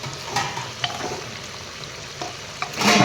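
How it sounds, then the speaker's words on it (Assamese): A spoon scrapes and stirs duck meat curry in a pressure cooker, with a soft sizzle underneath and a few sharp clinks of metal against the pot. "এনেদৰে মই তল ওপৰ কৰি এফালৰ পৰা লৰাই যাম"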